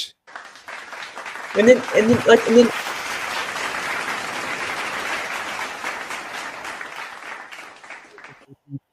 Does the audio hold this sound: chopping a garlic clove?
no